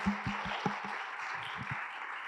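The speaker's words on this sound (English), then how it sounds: "let's give David a round of applause before we do" An audience at a visualization conference applauds a speaker: a thin, fairly quiet patter of claps over room noise, fading after about two seconds.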